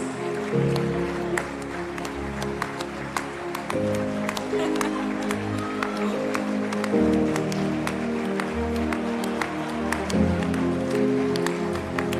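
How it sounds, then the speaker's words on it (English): Crowd applause welcomes Team USA at the opening ceremony of the 2021 IFAF Flag Football World Championships in Jerusalem, a sustained spread of clapping with sharp individual claps over steady background music, with no voices. "Let's give them a round of applause."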